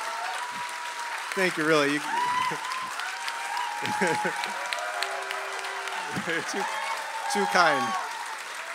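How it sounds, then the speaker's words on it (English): Applause from an audience at a live acoustic music concert in London rises and falls beneath someone speaking, with clapping continuing steadily throughout. "just another round of applause for Darren and all of his brilliant music."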